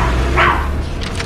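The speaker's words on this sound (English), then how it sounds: "Chalk's dogs Nip and Tuck climb on too." A single short dog bark rings out, followed by faint yips against a steady low rumble.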